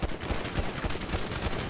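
Rapid gunfire in GTA V, dense bursts of automatic shots overlapping into a continuous loud barrage.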